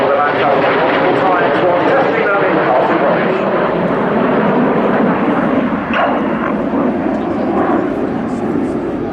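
An Avro Lancaster bomber passes during a flying display at the Royal International Air Tattoo 2019, its engines a loud, sustained, droning roar with a commentator talking over it.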